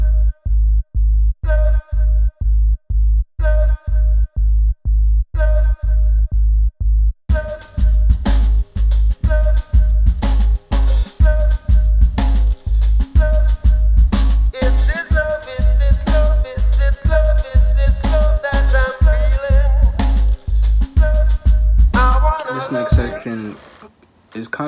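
A hip-hop beat built on a chopped vocal loop with delay. It opens with a punchy repeating kick pattern and short clipped vocal stabs, then fuller drums and layered samples come in, loud and rhythmic throughout.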